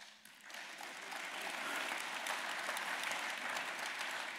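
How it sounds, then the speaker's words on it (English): Audience applause at a political talk on free trade, a dense steady wash of many hands clapping that swells after a brief start and holds loud and even throughout, with no voices over it. "It's very nice to have the applause,"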